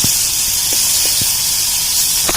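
Goat meat frying in a pressure cooker for a Diwali meal, a loud, steady close hiss with a few faint clicks and taps, no voices.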